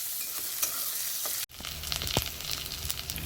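Garlic and chilli sizzling in a hot pan, with a brief drop as onion is tipped in, then a louder, busier crackling fry with stirring scrapes, close by.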